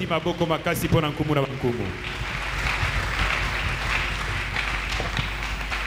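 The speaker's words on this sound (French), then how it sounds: "Acclamons très fort pour le roi." A church congregation applauding loudly, dense clapping swelling into a sustained roar after someone speaks over it at the start.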